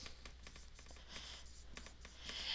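Faint scratching of handwriting as a math formula is written by hand: soft, close strokes in short irregular bursts over a quiet steady background hiss, with no speech.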